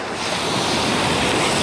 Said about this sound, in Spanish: ¡Qué las olas!